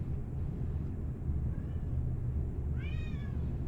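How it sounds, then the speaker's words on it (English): A hungry cat gives a short meow, then a louder, clearer one a moment later, heard over a steady low rumbling background. "Cat's hungry."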